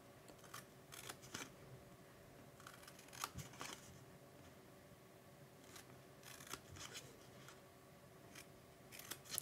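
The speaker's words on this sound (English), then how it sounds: "I'm gonna cut up the vertical score line and stop at that horizontal score line." Scissors cutting paper along score lines for a treat bag and card, with quiet snipping cuts in short bursts, close and faint over a low background hum, and nobody talking.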